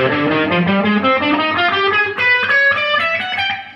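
A distorted electric guitar plays a quick run of notes that clash sourly against each other, thick and buzzy throughout.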